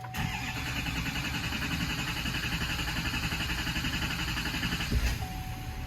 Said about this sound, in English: One engine cycle actually cranked it up.